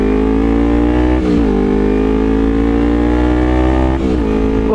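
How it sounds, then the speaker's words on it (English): A motorcycle fitted with a new exhaust holds a loud, close, steady growling drone, with two brief dips and rises in pitch where the throttle is blipped, and no talk over it. "this exhaust on this bike,"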